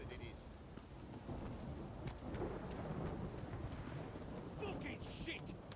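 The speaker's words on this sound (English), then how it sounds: "This downpour's a bastard" Heavy rain pours steadily in a Witcher 3 thunderstorm, a dense continuous hiss with low thunder rolling beneath it and some scattered sharper patters, while voices are faintly present.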